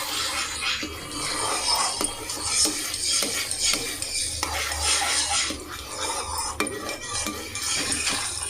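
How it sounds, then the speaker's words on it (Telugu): Spoon stirring apple halwa in a pan, with repeated close scraping and metal-on-metal clinks in an uneven rhythm over a soft cooking background. "మధ్య మధ్యలో మూత పెట్టుకుంటూ కలుపుకుంటూ చేస్తూనే ఉన్నాను"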